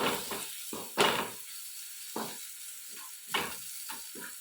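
Onion frying with coriander, turmeric and black pepper powder in a village kitchen: soft intermittent sizzling with a few louder stirring bursts, close and alone without voices.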